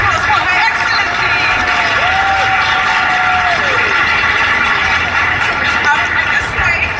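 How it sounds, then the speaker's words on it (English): Crowd at a Black History Month celebration in Milton Keynes applauding and cheering loudly, a sustained roar of clapping, whoops and excited voices with a long shouted call riding over it. "a round of applause for Her Excellency"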